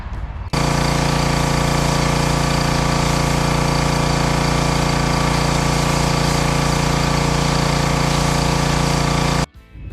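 A loud pressure washer runs nonstop at close range while cleaning a 2019 Bass Buggy 18 DLX pontoon boat, a dense engine-and-spray roar that starts abruptly, holds steady for about nine seconds, then cuts off.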